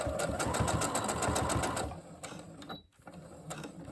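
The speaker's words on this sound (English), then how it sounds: "Back stitch. Then forward. and back again." A sewing machine back stitches through an elastic headband made from a bandana, a rapid close mechanical whir for about two seconds that then stops, followed by quieter handling and clicks.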